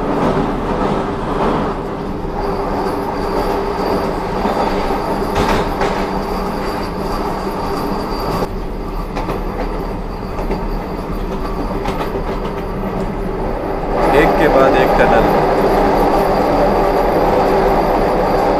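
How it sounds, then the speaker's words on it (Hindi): Interior of a Vande Bharat Express executive-class coach travelling from Katra to Delhi: a steady loud rumble of the running train with rail clatter and occasional wheel squeals, continuous throughout and growing slightly louder near the end. "ट्रेन के अंदर"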